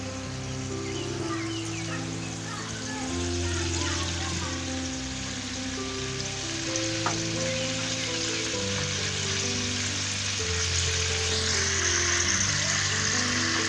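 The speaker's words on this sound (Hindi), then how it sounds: "मैंने एक बड़ा चम्मच रखा है घी गरम करने के लिए" A large spoonful of ghee heating in a pan for black chana curry gives a steady, soft sizzle under a continuous bed of background music.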